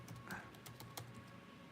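Quick, light keystrokes patter on a computer keyboard in an irregular rhythm, close and fairly quiet, with no talking.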